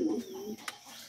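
A Lahori pigeon gives a brief, close, low cooing call that trails off, followed by a faint click.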